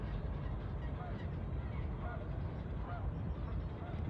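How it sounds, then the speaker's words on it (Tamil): A swan on the water honks as it draws near, with several short nasal calls standing out over a steady low rumble of background noise. "அன்னப்பறவை கிட்ட வருது"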